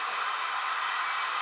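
Steady, even rush of flowing water from a stream or small waterfall close by in a forest, a constant broadband hiss with no breaks.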